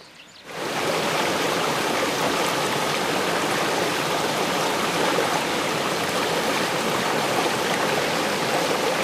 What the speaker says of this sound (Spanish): Al fondo apreciamos la Cascada del Salto